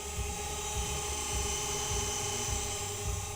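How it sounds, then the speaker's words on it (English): Four electric motors on an Avios C-130 radio-controlled airplane run together at high throttle, a loud, dense, steady whine recorded right beside them. "There's just something about hearing 4 motors going all at one time."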